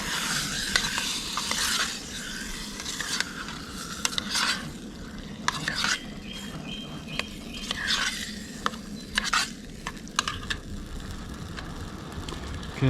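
Beef mince, chopped onions, peppers and pasta sauce are stirred and frying in a metal canteen cup, with a steady sizzle and repeated scraping clinks of a utensil against the cup, close up and continuous with no talking.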